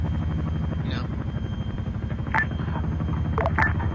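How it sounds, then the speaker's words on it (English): Chinook helicopter flying in a video game, a heavy, rhythmic rotor thud chopping steadily close by, with brief sharp pops and radio-like bursts breaking in over the drone. "Hey, there's another Chinook in the air."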